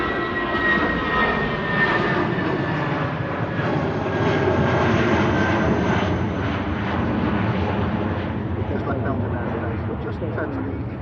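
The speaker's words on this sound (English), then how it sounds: "Aer Lingus A330 out as well." Aer Lingus Airbus A330 airliner departing Manchester Airport, a steady loud jet engine roar that holds through the clip and eases slightly toward the end, with a voice talking over it.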